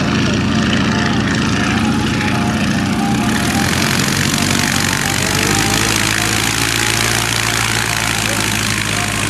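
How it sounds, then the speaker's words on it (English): A vintage biplane's propeller engine runs close by at Pioneer Airport, a loud, steady throbbing drone that swells and roughens as it revs partway through and holds throughout. "That's a biplane."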